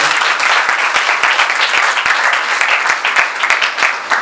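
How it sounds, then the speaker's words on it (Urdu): A church congregation at a sermon gives loud, sustained applause, many hands clapping at close range with a few sharper individual claps standing out. "سو تالیاں بجا دیں"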